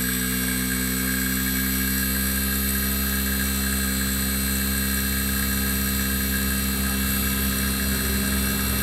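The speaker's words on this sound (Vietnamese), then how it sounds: "block đã bắt đầu khởi động. Tuy nhiên là block mình đang cắm cái rắc nó bị ngược pha cho nên là chạy không được êm" An air conditioner compressor wired with reversed phase runs roughly just after starting, giving a loud, continuous droning hum with a steady mechanical whine and faint vibration throughout.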